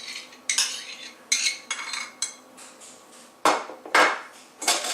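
Spoon scraping and knocking against a bowl while yogurt goes in for a chicken tikka marinade, a series of short, sharp clinks and scrapes at an uneven pace, close up with no talk.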